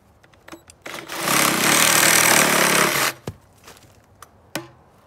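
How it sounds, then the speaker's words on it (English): A reciprocating saw (Sawzall) cuts through 5.5-inch-thick salvaged timber with a loud, steady buzzing roar for about two seconds, then stops, followed by a few sharp knocks and clatters. "we'll just finish it off with the Sawzall here"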